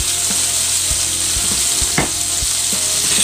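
Canned tuna sautéing in a hot pan gives a steady, loud sizzle with occasional stirring clicks and pops, no voices.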